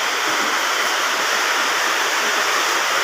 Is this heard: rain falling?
yes